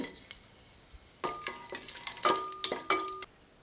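Whole spices, including bay leaves, cinnamon and cloves, crackle and sizzle in hot oil, starting quietly and then popping more busily with a few sharp bursts and faint stirring scrapes.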